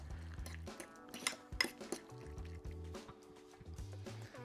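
Homemade mayonnaise is stirred with a spoon in a bowl, producing light clinks and taps against the dish with soft wet mixing sounds, quiet and close, with a faint low hum underneath.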